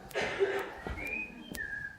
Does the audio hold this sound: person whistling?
yes